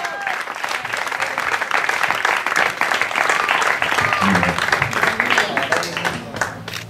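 A crowd applauds the class winner at a hill-climb car race, dense steady clapping that carries on for seconds while voices talk over it.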